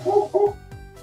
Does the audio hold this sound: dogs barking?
yes